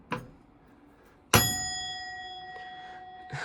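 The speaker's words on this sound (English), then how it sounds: "Does this bell ring anymore?" A conductor's bell inside an abandoned subway train car gives a single sharp ding that rings out in a long, clear metallic decay, preceded by a soft knock and followed by a faint later tap.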